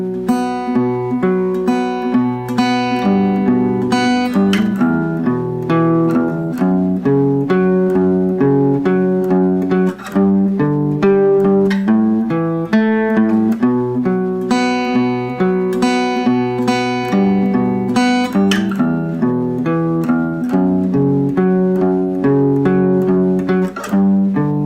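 Electric guitar plays the riff from a song in standard tuning, a steady, loud run of repeated picked notes and power chords, heard alone without any voices.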